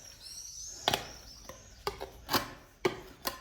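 A scraper strips paint from brass in an abandoned Sicilian palazzo. It makes a series of short, close, scratchy rasping strokes in an uneven rhythm, with no voices.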